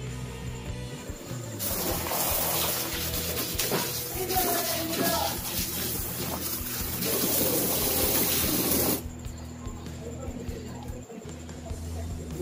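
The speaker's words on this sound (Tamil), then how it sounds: "இப்ப நம்ம இத அலசி பார்க்கலாம் எப்படி இருக்குதுன்னு சொல்லி." Water gushes from a tap as a washed cloth is rinsed by hand, a splashing, running flow close by that stops abruptly toward the end. A voice speaks over it.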